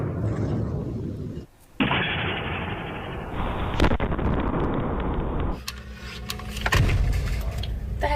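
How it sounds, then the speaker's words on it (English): Sonic boom from a meteor exploding in the atmosphere over New England, caught on home security cameras as sharp loud blasts and rumbling pops, with a voice speaking in between. "That was a sonic boom."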